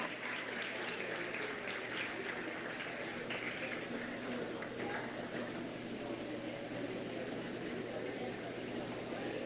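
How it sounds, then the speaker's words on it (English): A crowd applauds the intermediate showmanship champions at the 2025 Monroe County Dairy Show, giving steady, even clapping that fills the hall without pause for the whole stretch. "Let's give our intermediate showman a round of applause."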